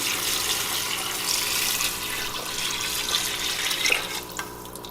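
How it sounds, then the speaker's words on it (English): Water is poured into a pot of pork and sweet potato stew, a continuous splashing, gurgling flow for several seconds with no talking. "Now we're going to want to add water. So it covers everything."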